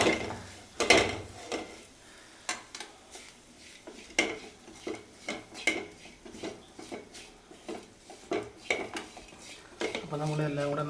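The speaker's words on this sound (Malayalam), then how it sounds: "അപ്പോൾ നമ്മളെല്ലാം കൂടെ നന്നായിട്ട് ഇളക്കി മൂപ്പിക്കുക." Chili, coriander and turmeric powder are stirred and roasted in a pan for a Kerala fish curry, a close run of rhythmic metal spoon scrapes and clanks against the pan over a faint sizzle, with a brief voice at the end.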